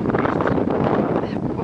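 Strong wind buffets the microphone in a steady, loud roar of broadband rumble with no pauses.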